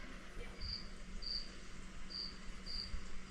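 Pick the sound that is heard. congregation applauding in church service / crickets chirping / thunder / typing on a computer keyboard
crickets chirping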